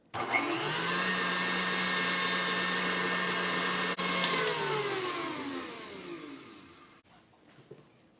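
Electric mixer whirring steadily through a blueberry mixture for its final mix, a loud continuous motor hum that winds down and stops, followed by faint clatter.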